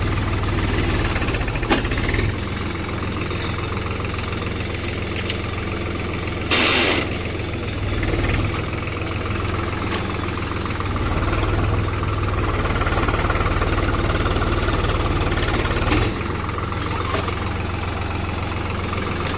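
A tractor engine drones steadily while it harrows rows in an arecanut plantation, a close, continuous mid-pitched rumble lasting throughout without speech.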